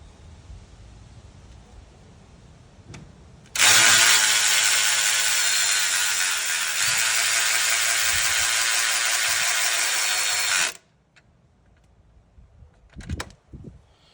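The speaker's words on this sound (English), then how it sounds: "basically back this bolt out until it touches the radiator" An electric ratchet, Snap-on brand, spins steadily for about seven seconds while backing out a bolt up to a radiator, a loud continuous whir that stops abruptly, with quieter mechanical clicks and handling noise before and after.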